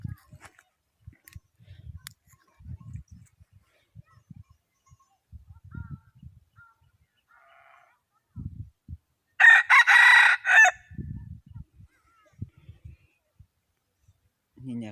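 A rooster gives one loud, close crow in the middle, while chickens cluck faintly and people talk quietly on and off around it.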